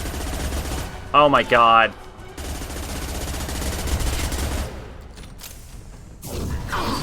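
Mass Effect 2 firefight with steady bursts of rapid gunfire, briefly broken by a short spoken exclamation, then resuming with loud automatic shots and clattering mechanisms.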